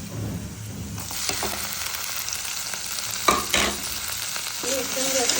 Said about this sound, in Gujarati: તો હવે હું આની અંદર જે ઝીણા સમારેલા ટામેટા છે તે એડ કરી દઈશ